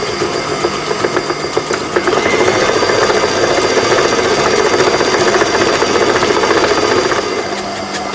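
An electric mixer whirs steadily as it beats egg white with lemon and vanilla essence into lemon sugar cookie dough, a constant close motor hum with a faint rattle through the mix.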